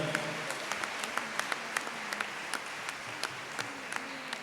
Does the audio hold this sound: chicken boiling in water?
no